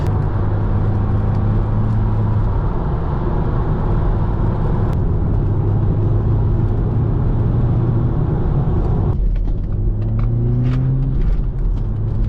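An Audi S3 with quattro all-wheel drive cruising along a lane, a steady low engine hum and tire rumble from inside the cabin, with a gear change and a brief rise in engine pitch partway through.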